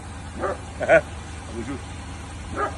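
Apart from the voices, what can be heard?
dog barking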